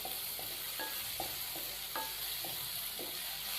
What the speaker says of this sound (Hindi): सब्ज़ मिर्चों को मैंने चॉप कर लिया है, तो ये शामिल करेंगे हम इसके अंदर। अच्छे से हम इसको मिक्स करेंगे